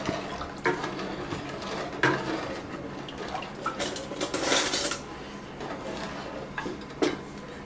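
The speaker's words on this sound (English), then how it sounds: "So I'm going to just stir this like this, just to make sure I have all the sugar incorporated." A spoon scrapes and clinks around a pot of sugar mixture for New Orleans-style pecan candy, with irregular metallic taps over a low, steady background.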